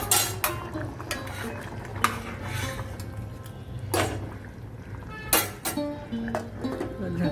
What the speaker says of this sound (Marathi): झाकण देऊन ठेवते